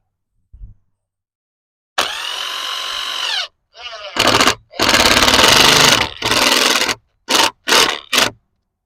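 A power drill drives screws into the wood of a raised garden bed in a series of loud, close whirring bursts of varying length, broken by short pauses and a brief scrape.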